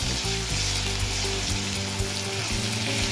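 Black cumin, tomato, ground coriander and ground cumin sizzle and fry steadily in hot oil for a Bengali foli fish curry, with a continuous crackling hiss, light stirring and a low tonal hum underneath.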